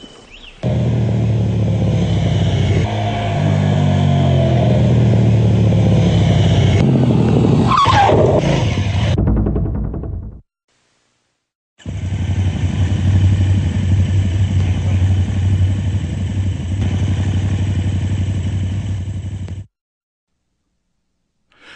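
A motorcycle ridden into a turn, its engine droning loud and steady with a strong low rumble, a brief burst of revving and scraping noise near the middle, then a pause before the engine drone returns alone.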